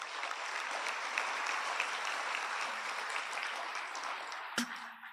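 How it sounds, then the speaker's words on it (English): Sustained audience applause fills a graduation ceremony hall at a homeopathic medical college, steady and fairly even throughout, ending in a sharp thump near the close. "Audience, please give a round of applause."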